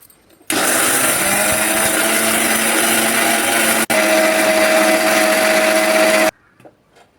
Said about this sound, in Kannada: ಸ್ವಲ್ಪ ಕಲ್ಲುಪ್ಪು, ಒಂದು ಸ್ವಲ್ಪ ಎಣ್ಣೆಯನ್ನು ಹಾಕ್ಕೊಂಡು ನುಣ್ಣಗೆ ಇದನ್ನು ಪೌಡ್ರ್ ಮಾಡಿಕೊಂಡು ಬರೋಣ